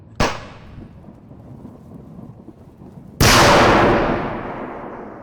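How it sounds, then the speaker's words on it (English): Two loud blasts from the survival shooter game Into the Radius: a sharp bang early on, then a bigger grenade explosion about three seconds later that rolls off slowly into a fading rumble. "I just removed the pin from the grenade."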